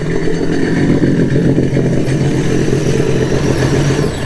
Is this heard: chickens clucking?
no